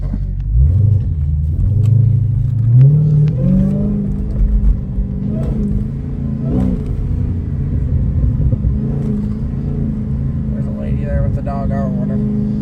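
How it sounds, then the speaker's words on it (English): Dodge Hellcat exhaust on the road, with a deep rumble that swells into a loud rev near the start and then settles into a steady burbling drone while driving, heard through a partly open window. "Let's get a little exhaust clip here."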